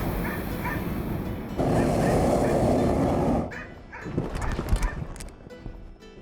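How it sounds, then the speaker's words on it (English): Dogs barking at an off-road chase vehicle in the desert near Yuma, sharp yips and barks breaking through loud rumbling vehicle noise, with a broadband roar dominating the middle stretch. "These dogs are not happy with it."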